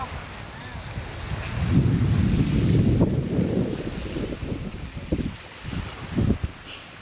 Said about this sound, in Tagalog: Dagat ba yan?